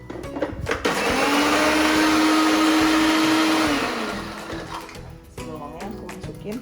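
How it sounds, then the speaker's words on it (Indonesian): Loud whirring drone of a kitchen blender chopping onions, running steadily for about three seconds before winding down, with clinks and a voice speaking afterward. "Jadi aku akan blender bawang buat sayur mereka biar berasa gitu."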